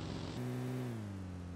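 Car engine in PUBG Mobile, a mid-pitched drone that steps up in pitch as it revs, then settles and holds steady, fairly quiet and with no talk.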